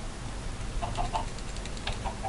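Chickens cluck in a Minecraft survival game, a few short, clipped calls in quick succession at moderate loudness over a low background hum, with no talk.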